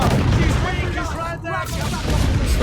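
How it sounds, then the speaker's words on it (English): Mortar and cannon fire in the Assassin's Creed Black Flag naval combat, dense booming blasts and rumbling explosions layered continuously over a loud, busy battle mix. "It's the mortars that are hurting me."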